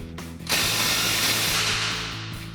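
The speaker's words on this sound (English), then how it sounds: "we can take our 8mm Allen and tighten this down." An exhaust clamp on a 2014-2022 RAM 2500 6.4L gets tightened with an 8mm Allen driver, a short whirring power-tool burst that starts abruptly after a faint click and runs steadily, close and alone.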